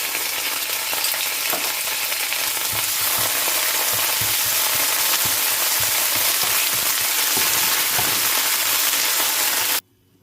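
Ginger garlic paste fries with fennel seeds and curry leaves for a potato fry, a loud continuous sizzle with scraping stirs, cutting off abruptly at the end, with no talking.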